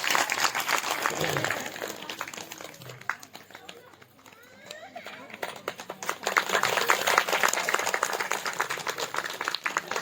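A devotional Ramayana katha gathering claps loudly for an honoured guest. The dense, sustained applause dips briefly around the middle, then swells again to full strength, with voices mixed in beneath it.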